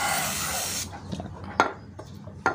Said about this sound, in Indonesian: Kerak-kerak yang menempel akan luntur setelah disemprot karburator cleaner ini